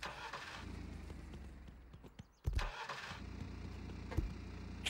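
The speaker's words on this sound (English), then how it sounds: "Why is your car breaking down?" A cartoonish convertible car in the video game Wobbly Life sputters and breaks down, its steady engine drone faltering and cutting out midway before a heavy thump and a rough restart, then a second jolt near the end.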